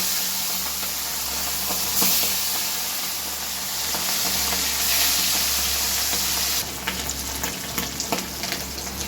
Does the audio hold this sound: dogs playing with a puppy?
no